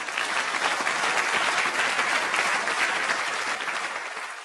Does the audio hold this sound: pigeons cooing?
no